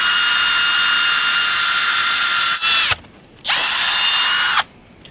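A handheld power drill bores a tap hole into a maple tree on a farm, giving a loud, steady high whine that cuts out briefly twice before stopping near the end.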